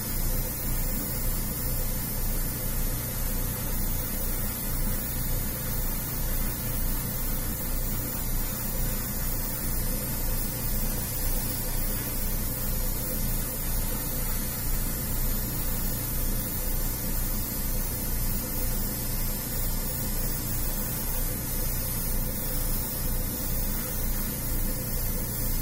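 An airbrush sprays Stynylrez base coat for skin tones onto a figure, a steady unbroken hiss that stays loud and even throughout with no talk.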